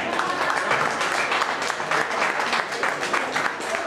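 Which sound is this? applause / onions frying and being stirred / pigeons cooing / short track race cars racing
applause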